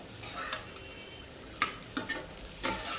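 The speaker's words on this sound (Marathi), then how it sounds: "आता चांगलं व्यवस्थित आपण याला हलवून घेणार आहोत आणि आता त्याच्यातच मी हे बटाटे टाकून घेणार आहे तळलेले आपले।" Sabudana khichdi with fried potatoes stirred in a pan: a soft sizzle runs underneath while the spoon gives several sharp scrapes and knocks against the pan in the second half. No speech.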